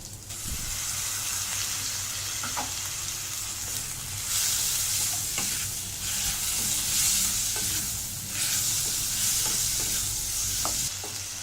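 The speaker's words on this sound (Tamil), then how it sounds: "இப்போ இதில் நான் தக்காளியை சேர்த்துட்றேன்." Tomatoes fry in a pan for capsicum gravy, giving a steady close sizzle broken by the scrape and clatter of repeated stirring, with no talk.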